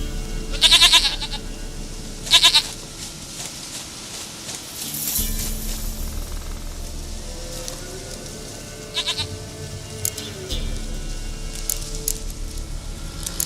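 A goat bleats twice in The Witcher 3, two short loud cries near the start, followed by game ambience and music.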